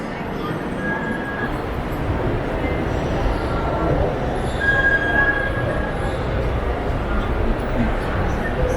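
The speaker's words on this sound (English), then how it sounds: "Yeah, so we're trying to get on this train. The subway, rather." A Rome metro subway train rumbles through an underground station, a steady loud roar with faint wheel squeals and occasional high whines.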